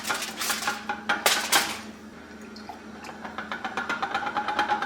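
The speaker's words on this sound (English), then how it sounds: "I'm just doing it slowly, stirring every minute or so" Beeswax melting in a pitcher is stirred with a utensil, producing a run of close metallic clinks and scrapes, a dense burst early, then a steady rhythmic tapping toward the end; no talking.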